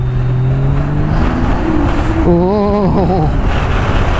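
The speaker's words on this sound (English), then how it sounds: "Really cool to drive these high horsepower turbo sleds when they're done up." A 250 HP Ski-Doo Renegade X-RS turbo snowmobile runs loud and close, its engine pitch climbing and then wavering as it revs, while a brief exclamation is heard over wind and roar.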